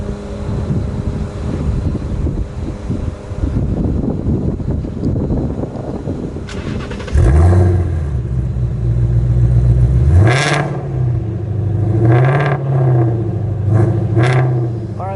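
A modified Ford Mustang GT350 with aftermarket exhaust fires up beside a church, a sharp crank and bark settling into a deep burbling idle, followed by several short, moderate throttle blips that rise and fall.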